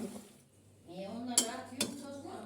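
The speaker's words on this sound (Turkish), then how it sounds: "bunu bir karıştırayım" Food is stirred in a pot, with two crisp metallic clinks of a spoon against the rim over a quiet background and a faint voice murmuring alongside.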